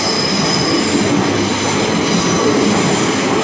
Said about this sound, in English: 800-307 heads to Bristol Temple Meads.